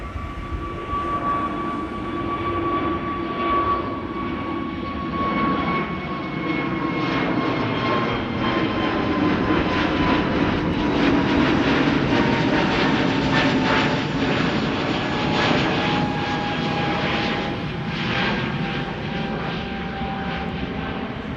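An SAS Airbus A320neo jet climbs out from Amsterdam Schiphol with a continuous loud engine roar and clear whining tones that slowly shift in pitch as it passes, with no voices.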